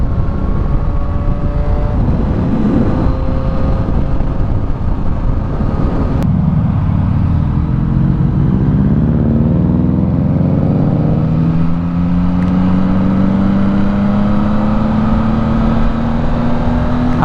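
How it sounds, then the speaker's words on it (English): A Subaru WRX STI boxer engine rumbles as a loud, continuous close-up drone, with a rising engine tone swelling in the second half. "I love the rumbles of an STI, of a Rex, of a WRX."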